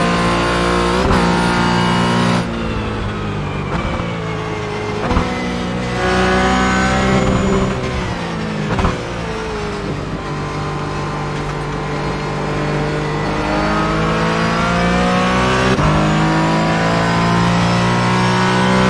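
A Porsche Cayman GT4 engine in a sim racing game at the Nurburgring, a loud continuous roar that rises and falls with gear shifts and braking, with brief dips between pulls.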